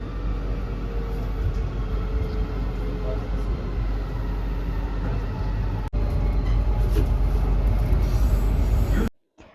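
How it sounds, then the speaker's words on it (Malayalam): A moving Riyadh metro train carries passengers, giving a continuous broadband rumble with rail noise throughout. A short click sits near the middle, then the sound cuts off abruptly near the end. "മെട്രോയുടെ ഉൾഭാഗമാണ്"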